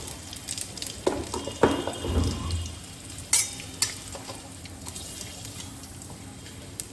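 Panch phoron seeds hitting hot oil for a light summer vegetable dish, crackling and sizzling briefly with a few sharp pops and stirring scrapes, close and fairly loud, then settling to a softer fry.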